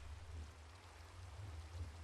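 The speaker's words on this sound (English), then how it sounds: "Okay, here comes our pulse, here comes the water." Water flows in a Minecraft mob farm, a faint, steady rushing wash with a low rumble that stays even throughout, with no voices.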